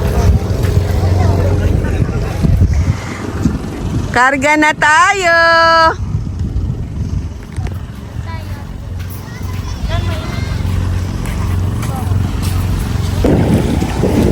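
Steady engine drone and wind rumble from a motorboat on open sea off Dasol, Pangasinan, with people talking and shouting over it throughout.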